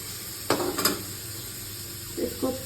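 Quiet sizzle of food frying in a pan in a home kitchen, with a couple of sharp scraping stirs of a utensil against the pan near the start and near the end, under a soft steady hiss.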